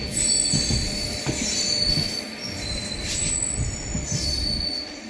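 Wheels of a passing train squeal loudly and continuously against the rails, with rumbling and metallic screeches rising and falling close by, and no voices.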